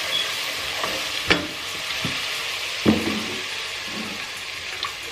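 Spices cooking in oil for a Bengali fish curry, with a low steady sizzle and a few sharp stirring clinks and scrapes against the pan scattered through, no talking.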